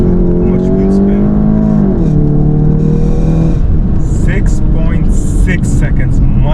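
A Golf GTI MK7.5 Stage 2 launches hard from a standstill in sports mode, its engine note loud and rising through the gears as the car pulls away.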